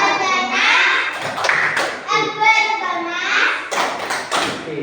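Children clap together in a brisk patterned rhythm in a classroom, the claps mixing with their chanting voices at close range.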